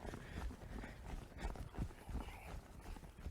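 Horse hooves step slowly near a fence, a faint, irregular series of soft thuds and clops across a few seconds with no talking over them.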